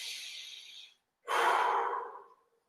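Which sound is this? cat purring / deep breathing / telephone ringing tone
deep breathing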